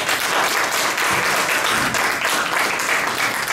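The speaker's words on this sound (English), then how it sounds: "Let's give him a round of applause." A conference audience applauds, steady dense clapping from a large crowd filling the room throughout, without pause.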